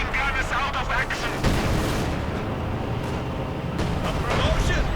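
Incendiary artillery barrage in a tank-battle video game, a dense unbroken roll of booms, blasts and rumbling impacts lasting throughout, loud, with a commentator's voice running underneath.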